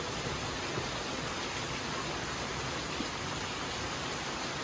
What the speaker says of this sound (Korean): 아, 너무 많이 와, 비.